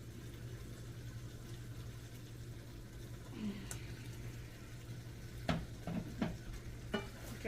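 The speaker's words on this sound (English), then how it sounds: "Okay, I'll start getting everything kind of stirred together here." Quiet, close stirring of cashew chicken in sauce in a pan, with a soft low sizzle underneath and a few sharp scraping, clinking strokes of the utensil near the end.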